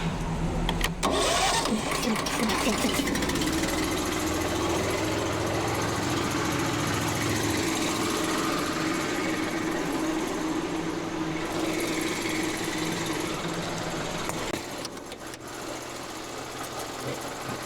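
Truck engine cranking and starting, then running in a loud, steady, continuous rumble close by, with a brief shift in tone near the end.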